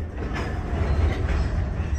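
A freight train locomotive moves to couple to a gondola car, giving a steady, fairly close low rumble with faint wheel clatter and no voices.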